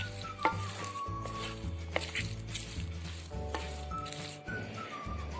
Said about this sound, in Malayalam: കടുകും കറിവേപ്പിലയും പച്ചമുളകൊക്കെ കൂടെ നല്ലോണം മിക്സ് ചെയ്തെടുക്കാം.